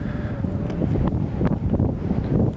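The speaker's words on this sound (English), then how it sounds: "the wind's blowing kind of hard here right now" Strong wind gusts buffeting a microphone on a high mountain ridge, a steady rushing roar with short rustling surges up close and no speech.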